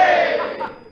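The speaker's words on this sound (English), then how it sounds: "Give her a cheer, fellas." A crowd of performers in a stage musical cheers and shouts together for a woman marching into a festive scene, a loud, dense burst of voices that tapers off over about a second.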